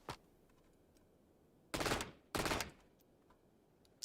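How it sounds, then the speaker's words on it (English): A submachine gun in a Counter-Strike or Valorant style shooter fires locked four-round bursts, two rapid, loud clusters of shots about half a second apart, with a faint single pop at the start and end. "If I just hold down the trigger, it still only fires in a 4-round burst."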